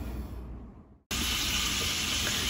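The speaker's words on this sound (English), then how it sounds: "Probably hear it sizzling in the background" Chicken pieces sizzling in olive oil in a hot skillet, a steady close hiss that drops briefly then resumes loud and continuous.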